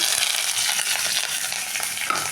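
Shallots, curry leaves and fennel seeds fry in hot oil for a Tamil spicy chicken fry, giving a steady, close, dense sizzle with faint stirring scrapes and no talking.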